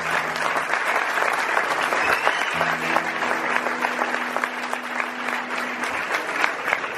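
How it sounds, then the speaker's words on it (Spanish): A concert audience at Sala Galileo applauds continuously for about seven seconds, a loud, dense crowd clapping that stays even, with faint tonal sounds from the stage underneath and no talk. "Un aplauso."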